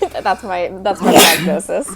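A single sharp sneeze bursts out mid-conversation during a podcast recording, surrounded by close conversational speech.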